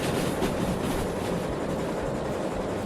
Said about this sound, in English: my train's coming through the corner